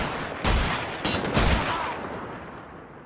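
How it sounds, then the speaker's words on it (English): Gunfire in Wolfenstein: The Old Blood: a few sharp, loud shots crack in quick succession, each leaving a brief echoing tail that fades into quieter background ambience. "I gave you 2 warning shots"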